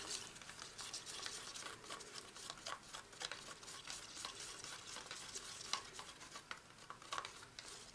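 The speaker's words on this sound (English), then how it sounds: "And then I should give that a good stir." Acrylic pouring paint is stirred in a container, giving soft, repetitive scraping and swishing strokes that are faint and continuous, with no voices.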